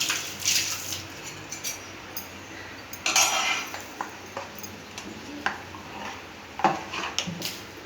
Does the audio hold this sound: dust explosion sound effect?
no